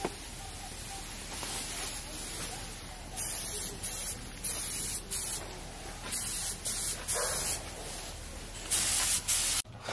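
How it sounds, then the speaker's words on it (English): Aerosol or spray gun hissing in steady bursts while parts of a 2007 Yamaha R6 motorcycle are painted outdoors, close and continuous with brief pauses between passes. "Alright, so we finished spraying most of the parts."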